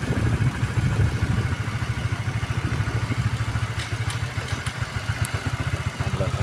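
A motorcycle engine runs steadily during a long-distance bike tour near Rajshahi, a close, continuous low thrumming pulse with road rumble and faint clatter, no talking.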